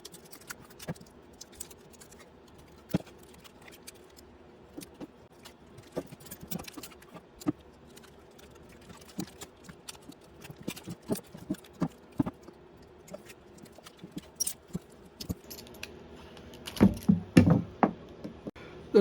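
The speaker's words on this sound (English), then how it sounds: "I want to start putting kapton tape around the entire pack." Kapton tape being wrapped around an 18650 battery pack gives faint, scattered crinkles, taps and peeling sounds that end in a louder rustling burst, with no talking.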